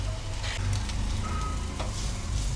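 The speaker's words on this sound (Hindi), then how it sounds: "इन मसालों को अच्छी तरह से हम भून लेंगे" Spices and dried fenugreek leaves fry in oil for dahi tadka, a soft, steady sizzle with faint crackles and occasional stirring scrapes, close by and without talk.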